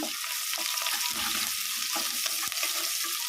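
Onions and green chillies frying in oil for semiya upma, giving a steady close hiss of sizzling with faint stirring taps throughout.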